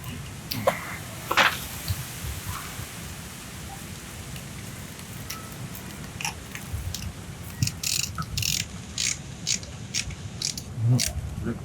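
Socket ratchet with an extension clicks in short irregular bursts while working on a Zontes 250 TE motorcycle, fairly close, over a steady background hiss.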